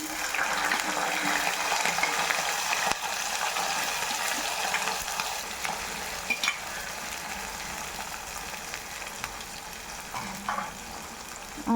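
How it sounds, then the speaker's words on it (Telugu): Onion and green chillies frying in hot oil with tempering spices, a steady close sizzle with occasional stirring clinks and scrapes throughout, no talk. "ఇప్పుడు ఉల్లిపాయ పచ్చిమిరపకాయ వేసుకోవాలి."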